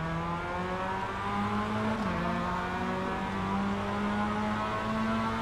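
Several video game race car engines in an eNASCAR iRacing race at Kansas Speedway drone steadily and loudly together, their pitch rising as the cars accelerate, with a brief shift midway.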